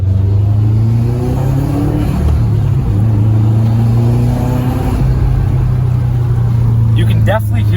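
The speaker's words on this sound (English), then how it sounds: "You can definitely hear the turbo spool a lot more. And the recirculation valve, you can hear pretty good." A Subaru Forester drives along with a steady, loud engine drone and rising turbo spool tones, and a brief high hiss-like flutter near the end fits the recirculation valve; there is no clear talking.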